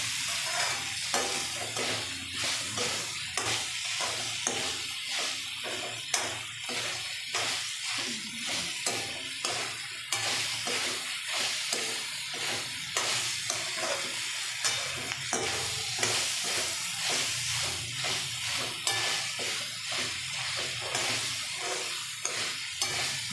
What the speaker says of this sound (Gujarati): મોટા મોટા પીસ કર્યા હોય એટલે આપણે શાકને આમ ફેરવીએ એટલે પીસ છૂટા પડી જાય ડુંગળી સરસ ખીલી ખીલી થઈ જાય